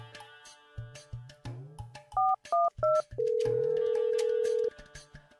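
Three short two-tone beeps of telephone keypad dialing, followed by a long steady tone, close and loud, with a faint voice at the start.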